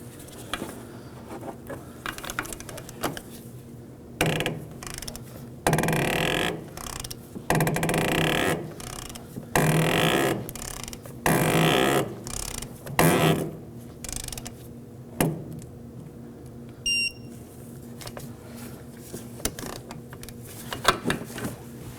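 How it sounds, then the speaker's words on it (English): A torque wrench tightens the top nut of a rear air shock on a 2017-2024 Nissan Armada, with repeated bursts of rapid ratchet clicking separated by short pauses and a sharp click near the end, close and without talk. "Now we can go ahead and torque the top nut to 45 foot-pounds."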